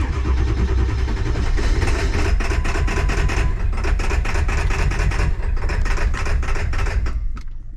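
A 2001 Ford F-450 with a 7.3 diesel idles roughly on only four cylinders, a loud, close, uneven clattering chug that holds steady before easing off at the end.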